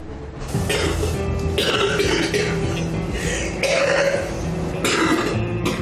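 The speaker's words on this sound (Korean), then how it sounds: "쏟아지는 기침 때문에 몸을 가누기 힘들 정도" A person with bronchiectasis coughs repeatedly in close, harsh, wet bursts, several fits in a row with throat-clearing between them.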